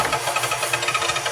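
An older Ryobi table saw runs with a rapid, regular knocking rattle repeating several times a second over a steady mechanical hum, close and moderately loud.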